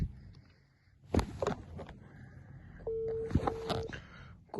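A phone call being placed that does not ring through, with a steady electronic busy or call tone joined by a few short keypad-like beeps, over faint room noise and occasional footsteps or handling knocks.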